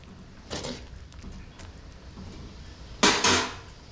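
A curry pot is stirred and drumstick and potato pieces are added, giving a few distinct metallic clanks and knocks of a spoon against the pot, the loudest pair near the end, in a quiet kitchen.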